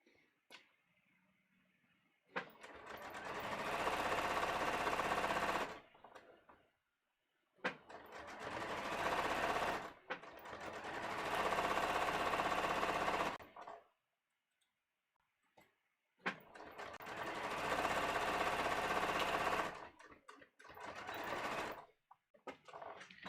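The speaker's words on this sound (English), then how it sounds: "So I'm going to go ahead and stitch really close to this." A sewing machine stitches close along the lining of a holiday dress with a new neckline, running in three long loud bursts of rapid mechanical whirring and ticking separated by short quiet pauses.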